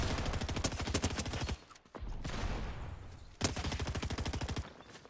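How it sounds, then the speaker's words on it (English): Long-range SMG fire in a Fortnite Duos tournament match, rapid loud bursts of close automatic shots in two long strings separated by a brief gap filled with a hiss. "Look at this long-range SMG here."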